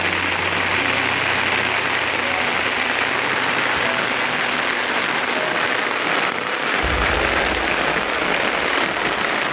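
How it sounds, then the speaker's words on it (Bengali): Heavy rain pours down outdoors over a vast flooded wetland near the India border after two days of rain, a loud, steady, dense hiss that continues without a break. "বৃষ্টির শব্দ হয়তো কথা আমার বুঝতেছেন না।"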